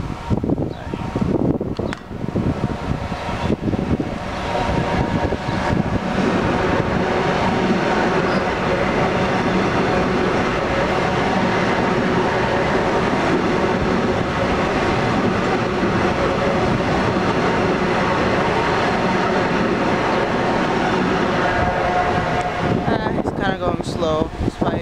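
LIRR M7 commuter train rolling express through Little Neck station, a loud, steady rumble and rail roar filling the whole stretch, with wheel clatter building at the start and easing near the end; brief voices underneath.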